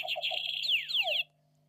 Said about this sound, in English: That there is Chris Hayden's buzzer.